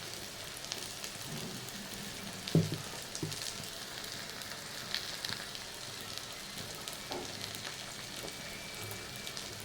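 Brinjal curry frying in a pan gives a steady, soft sizzle and crackle throughout, with an occasional louder clink or stir partway through and no voices.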